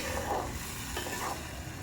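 Ginger-garlic paste is stirred in a sizzling pan, a quiet continuous hiss with soft scraping strokes from the spoon, close and faint, with no voices.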